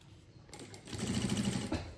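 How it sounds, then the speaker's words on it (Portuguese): Sewing machine joining a bag lining to the main fabric of a small suitcase-style bag, starting after a short pause and then humming steadily at close range for about a second. "E faço uma costura só para unir o forro ao principal e deixar o estruturador lá dentro da costura."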